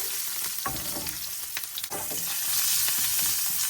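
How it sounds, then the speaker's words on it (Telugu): Garlic frying in a pan with a pinch of asafoetida, a loud close sizzle broken by a few sharp scrapes and knocks of stirring, rising steadily toward the end with no talk. "ఇప్పుడు ఇవి బాగా వేయించుకోవాలి గార్లిక్ ఉడికే వరకు"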